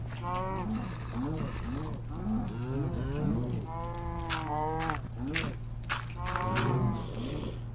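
Cows in a Minecraft game moo repeatedly in a steady, fairly quiet series, with a faint mechanical ratcheting underneath and a low constant hum.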